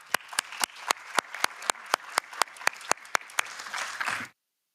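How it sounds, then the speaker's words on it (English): An audience applauds the presenters at a project event on flexible working time, steady clapping with distinct sharp claps standing out, ending abruptly in silence. "Please, big applause for all the presenters."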